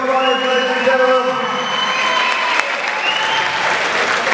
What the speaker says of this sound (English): Round of applause for both fighters,